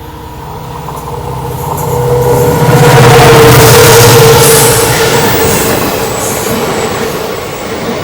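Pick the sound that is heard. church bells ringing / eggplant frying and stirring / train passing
train passing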